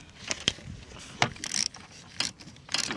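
Bent wrench fitted with a socket adapter working on the upper engine of a Jeep Commander 5.7 during a valve cover gasket job, giving scattered metallic clicks and clanks in short bursts, close by with no talking.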